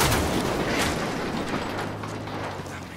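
Continuous loud gunfire and booming blasts from the video game Ghost Recon Wildlands, a dense sustained barrage with no pauses across the whole stretch.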